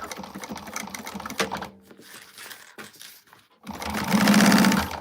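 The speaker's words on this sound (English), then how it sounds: "Let me go ahead and top stitch this" A sewing machine top stitching a bag: a rapid mechanical stitching run, then a pause with small handling noises, then a louder steady burst of stitching near the end.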